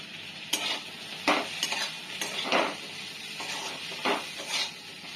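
Banana flower stirred and fried in a pan with turmeric and salt: several distinct scraping spoon strokes over a steady close sizzle, with no voices.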